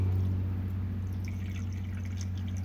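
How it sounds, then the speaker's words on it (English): Antifreeze dribbles and trickles into a hole leading down to the manifold of a Volvo Penta 3.0 boat engine, a soft, close pouring sound over a steady low hum. "dump a little antifreeze into that hole that takes the, or goes down to the manifold there"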